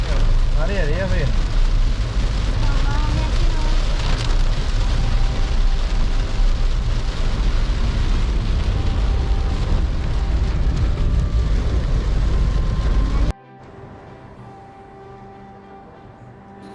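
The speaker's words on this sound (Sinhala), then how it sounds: "ඉතින් මේ ඉන්නේ අපි මහියංගනේ ටවුන් එකේ මේ වෙලාවෙදිත් ගොඩාක් වැස්ස" Heavy rain falls in Mahiyanganaya town as a loud, continuous wash of noise with traffic mixed in, then cuts to a quieter, calmer scene near the end.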